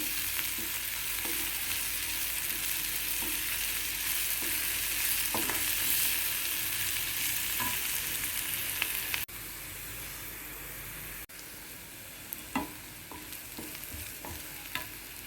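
Chicken liver fries in a pan with a steady, dense sizzle and crackle while it is stirred now and then, scattered scrapes and taps marking the stirring.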